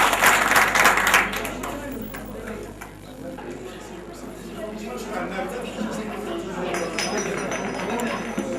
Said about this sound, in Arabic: صفقوا على سيد.